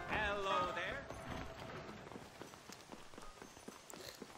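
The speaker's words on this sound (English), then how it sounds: "It's raining, but is the doctor open?" Rainfall in the Red Dead Redemption western game world, a steady patter under clopping horse hooves, with a voice talking over the start.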